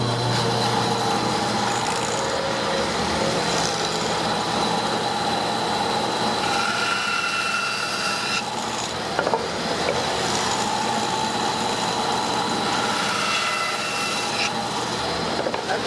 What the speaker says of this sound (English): What we're going to do here on the bandsaw is we're going to cut a slot in this tenon